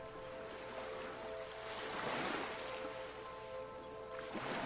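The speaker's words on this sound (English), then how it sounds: "the sound of the waves is spiritually soothing" Ocean waves wash continuously in the distance with a broad steady roar that swells gently midway, mixed with wind, and a faint low hum runs underneath.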